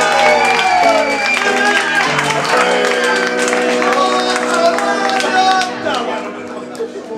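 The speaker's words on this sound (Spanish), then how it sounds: "Temos a José Del, forte aplauso." Bar patrons applaud a guitar solo contest participant, clapping and whoops mixed with crowd chatter and loud background music carrying steady tones throughout.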